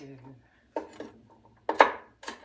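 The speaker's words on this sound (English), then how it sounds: "Chopping up some onions" Onions being chopped with a knife, a few sharp separated cuts on a board at irregular intervals, close and fairly quiet, with a voice speaking at the start.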